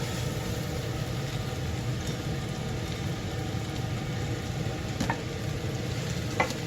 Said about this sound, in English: we're going to put the kale in here and wilt it down